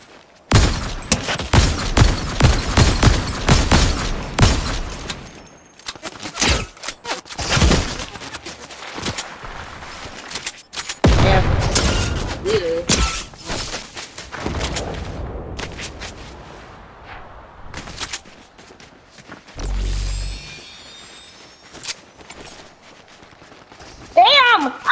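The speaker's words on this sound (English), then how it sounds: "I'm trying to hit him with my sniper." Video game sniper gunfire, dense loud shots clustered early then scattered more sparsely, mixed with booms and mechanical clatter, while people talk throughout.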